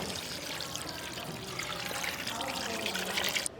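Water pours steadily into a pot of mutton gravy with turmeric and salt, a continuous splashing trickle that holds for several seconds, close and fairly loud.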